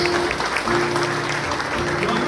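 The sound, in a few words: congregation applauding at a charismatic assembly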